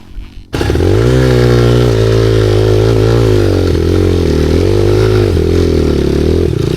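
A trail motorcycle revs loud and close, its engine holding a steady, rough drone with slight pitch wobbles as the throttle shifts. The clip opens with a brief moment of quiet.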